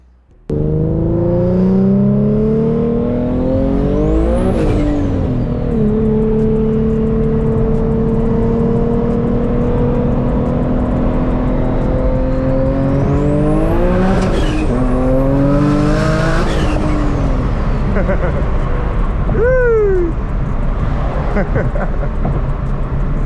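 An 800-horsepower turbocharged VQ engine in an Infiniti G37 revs hard and loud, climbing to high-pitched screams several times with pops in between, close by and dominating throughout.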